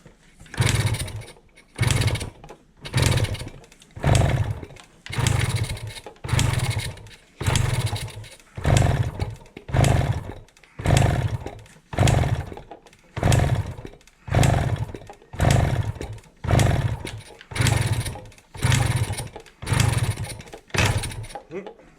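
A Kawasaki G5 motorcycle with electrical troubles is kicked over again and again, its engine churning in a regular rhythm of about fifteen loud, close bursts without catching.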